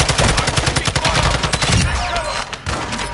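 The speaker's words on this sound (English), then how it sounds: "I put a sentry gun down" A sentry gun in Call of Duty DMZ fires steady rapid bursts at close range, a loud rattling stream of gunshots that thins out toward the end.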